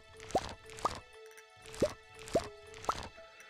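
Watering crops in the farming video game Stardew Valley: five separate wet plopping drips spaced about half a second apart, each a quick bloop, over a soft steady background tone with no talking.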